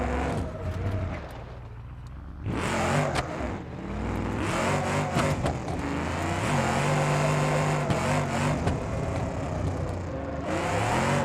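A big-block car with big tires drifting in four-wheel drive in BeamNG.drive, engine revving hard and rising and falling in pitch with tire noise, loud and continuous, no talking.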